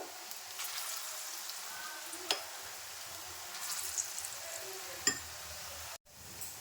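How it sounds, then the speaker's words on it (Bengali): Split chickpeas (chana dal) fry in a pan for a ladoo recipe, a faint, steady sizzle with a few light clinks of stirring. "শুধু ছোলার ডালটা ভেজে নিচ্ছি এইভাবে"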